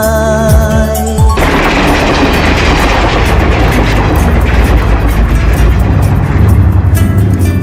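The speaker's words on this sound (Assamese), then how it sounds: "এই ট্ৰেইনখন কলৈ যায় বাৰু" A train passing close by, a loud continuous rumble and roar with faint rhythmic clatter, after a short stretch of music and singing at the start.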